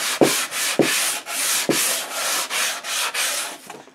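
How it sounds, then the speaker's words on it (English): Sandpaper worked by hand along the edges of a surface, a steady run of about eight rasping strokes in quick rhythm, close and fairly loud with no talking. "that's all you need, is just a little bit of sanding to sand the edges"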